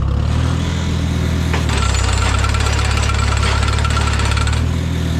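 Tractor engine idling with a knocking rumble during logging, then throttling up partway through into a louder, steady roar that holds close and loud to the end.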